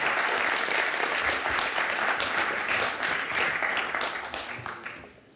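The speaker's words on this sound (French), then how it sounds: "Sous vos applaudissements, s'il vous plaît." Audience applause at a French conference on ocean protection and biodiversity, a dense sustained clapping from a seated crowd that holds steady and then fades out over the last second.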